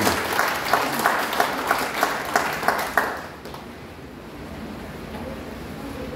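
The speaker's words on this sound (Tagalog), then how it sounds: "Isa pang malakas na palakpak sa ating Panginoon." A church congregation claps loudly in rhythmic bursts for about three seconds, then fades into a low, washy room noise.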